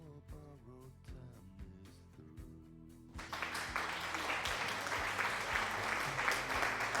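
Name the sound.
applause sound effect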